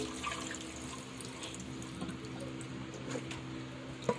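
Pork pieces rinsed under running tap water at a kitchen sink, a steady soft splashing stream with faint dripping and small bumps, heard close and fairly quiet.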